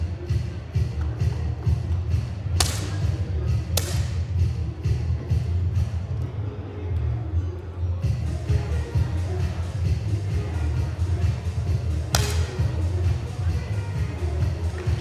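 Sharp, single cracks of 10m air pistol shots at a men's ISSF World Cup Final in New Delhi ring out a few seconds apart over a low, steady hall ambience with faint crowd murmur.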